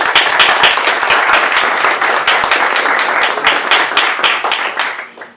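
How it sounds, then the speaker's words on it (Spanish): A crowd bursts into loud, dense applause that carries on for several seconds before tapering off at the end. "Un aplauso, por favor."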